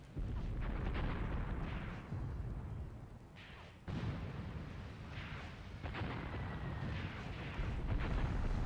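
Artillery fire and explosions in a Graviteam Tactics battle set in the Second Battle of Kharkov, with white phosphorus shells among them: a continuous rumbling barrage of booms and blasts, with a sharp new burst partway through, loud and sustained without a pause.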